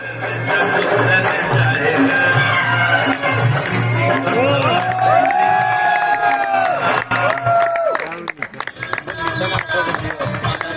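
A village crowd cheers, whoops and applauds at a magician's performance on Mahashivratri. Loud excited shouts rise over clapping and a low steady hum, with voices calling out throughout.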